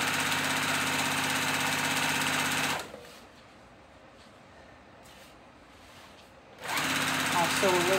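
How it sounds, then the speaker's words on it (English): A sewing machine stitching cow print ribbon onto a tutu runs in two steady, close, loud bursts of humming stitching, with a quieter pause between them. "I'll sew a little bit"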